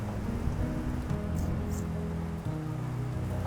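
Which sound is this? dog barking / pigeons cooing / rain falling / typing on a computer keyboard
rain falling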